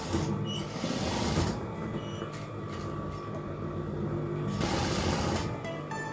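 Domestic sewing machine stitching a garment placket while modifying a dress to a halter neck, a steady mechanical whir running almost continuously with brief changes in pace.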